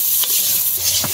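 Drumsticks and potatoes fry in a pan, giving a loud, steady hiss and sizzle with a couple of short stirring scrapes.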